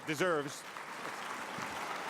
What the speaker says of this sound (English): I'd like everybody to stand up and give John the applause he deserves